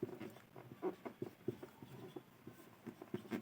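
Chalk or marker scratching on a classroom board during a math lesson, quiet and close, with a steady run of short strokes and taps in an irregular rhythm.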